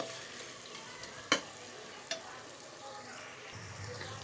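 Oil sizzling steadily in a nonstick pan as ingredients fry for a meal maker and egg biryani, with a couple of sharp utensil clicks against the pan and no voices.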